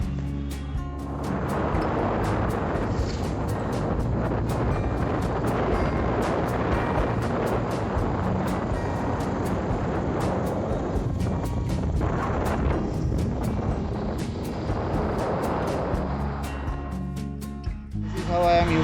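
Steady, loud wind buffeting and road rumble from a motorcycle ride, with a magnetic mobile pouch mounted on the tank, continuous for the whole stretch with brief gusty swells.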